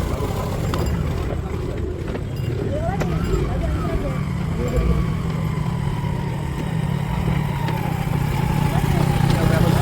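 Motor engine idling aboard a river ferry boat carrying motorcycles and bicycles across, a steady low rumble with a faint whine over constant outdoor noise and distant voices.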